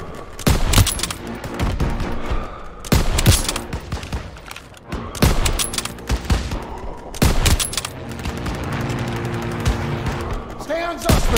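Repeated bursts of heavy gunfire in a World War II shooter game, loud volleys and rattling automatic fire spaced every couple of seconds, with game voices calling out between shots.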